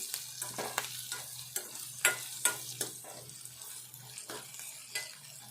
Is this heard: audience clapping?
no